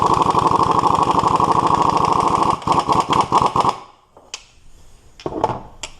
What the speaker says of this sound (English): So we'll tighten down the stud first.